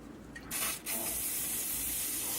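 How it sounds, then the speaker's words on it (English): A short burst of coconut cooking spray onto a spatula, close and hissy, followed by a lingering faint hiss. "you're going to want to coat it in coconut spray"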